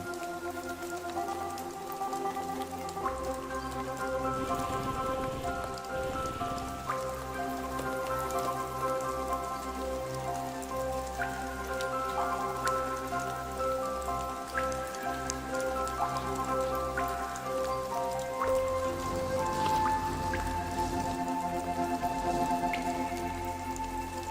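Rain falls steadily on leaves where hummingbirds and a bananaquit bathe, giving a dense, even patter with a tonal musical backdrop underneath.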